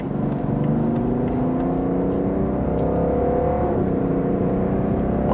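A diesel estate car accelerating hard on a motorway in sport mode, its engine note a steady, rising drone with tonal whine layered over road and wind roar, continuous and close throughout, without speech.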